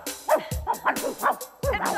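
A man imitates a wolf or dog with a run of short barking and yelping vocal bursts, loud and close, in a rhythmic sequence of about five calls.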